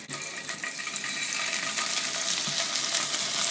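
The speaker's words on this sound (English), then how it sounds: "Test with a single piece of paneer whether your oil is hot or not." Cube of paneer sizzling in hot oil in a pan, a continuous crackling fry that starts with a sharp hit and stays loud and close with small pops throughout.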